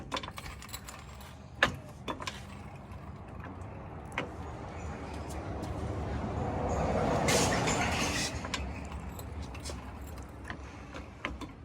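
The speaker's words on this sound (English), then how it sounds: "So I guess we'll take a crowbar and pry it up for it." Metal clanks and ratcheting clicks come from a crowbar prying at a jammed strut on a Honda S2000 during a coilover install, sharp knocks scattered around a swelling scraping strain in the middle.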